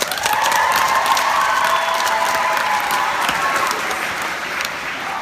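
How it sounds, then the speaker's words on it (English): Sustained applause from a large audience at a Yom Haatzmaut independence celebration in Melbourne, steady and dense throughout with a few cheers mixed in, easing slightly near the end. "Thank you for giving me that wonderful round of applause."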